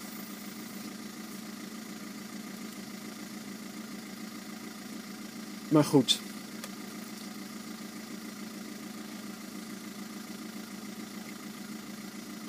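A car engine idles steadily through the whole stretch, a constant low hum broken by a brief burst of louder noise near the middle and a couple of spoken words.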